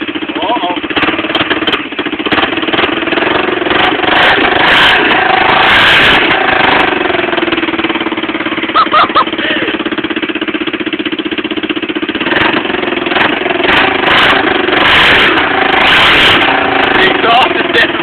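A smashed Honda Fourtrax ATV engine runs at a cold start with its exhaust off, a loud, raw, continuous rattling drone throughout, while people talk over it.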